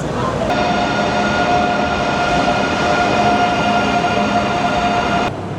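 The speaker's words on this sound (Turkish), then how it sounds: "Birinci platforma trenimiz yanaşacak." A train pulls in at a station platform in Spain with a steady loud rumble and tonal hum lasting several seconds, with no clear talk over it.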